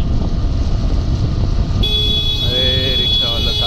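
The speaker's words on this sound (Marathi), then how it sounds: "गाडी येते समोरून, गाडी येते." A car comes toward the listener on a foggy mountain road, its horn sounding in short tones over steady engine and wind rumble, while a person talks nearby.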